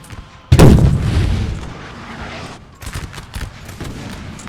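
Cannon artillery in a Napoleon Total War battle at Balaclava, Crimean War: a single loud booming volley, then rumbling reverberation and scattered distant shots.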